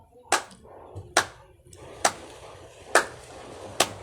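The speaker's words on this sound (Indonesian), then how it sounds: "Tepuk tangan 5 kali." Five sharp hand claps at a steady, unhurried pace, each a crisp broadband slap standing clear above a low murmur of background noise.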